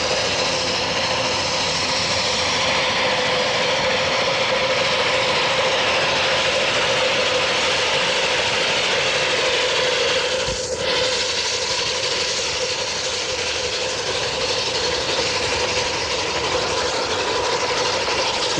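Southern Pacific 4449 Daylight steam locomotive running on its 1981 return from Railfair, a loud, continuous roaring rumble with a steady hiss and a brief whistle-like tone partway through, heard close and unbroken throughout.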